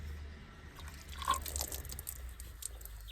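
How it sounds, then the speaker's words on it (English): Freezing cold mountain water splashed and poured while washing up at a wild camp in Mallorca, a close, moderate run of drips and wet splashes against steady low outdoor rumble. "I'm sure some of this freezing cold mountain water will do the job"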